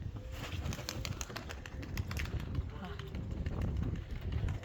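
Serpasti pigeons released for a training flight, wings flapping in soft bursts close by over a low rumbling background, with voices talking throughout.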